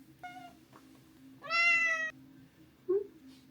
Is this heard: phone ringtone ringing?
no